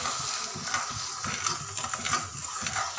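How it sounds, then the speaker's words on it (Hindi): Sugar is stirred into boiling water in a pot for motichur laddu syrup, a spoon scraping and clinking in quick irregular strokes over a low bubbling simmer, faint and close. "चीनी डालने के बाद हम इसे हिला देंगे।"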